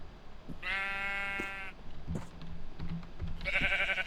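Minecraft sheep bleat in two clear, nasal cries, one long and one shorter near the end, with faint soft thuds and game noises between them.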